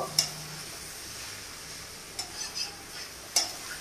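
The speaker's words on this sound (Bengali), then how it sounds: "বিনস আর গাজরটাকে ভাজছিলাম ওটাও প্রায় মোটামুটি ভাজা হয়ে গেছে। আর একটু ভাজবো" Soft frying hiss with a few sharp clicks and scrapes of a utensil moving beans and carrots around a pan.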